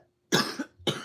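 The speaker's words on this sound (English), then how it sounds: "I'm just gonna cough myself to death." Two harsh coughs come close to the mic, one long burst and then a shorter second one, after a brief quiet moment at a desk where metal-coloured pencils are in use.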